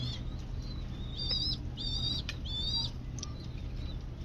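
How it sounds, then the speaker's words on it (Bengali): A pair of fantail pigeons, with soft fluttery wing and bird sounds over a low steady background hum, plus several bright chirps or squeaks from small birds nearby, fairly faint overall with no talking. "আপনারা দেখতে পাচ্ছেন একজোড়া লক্ষা কবুতর।"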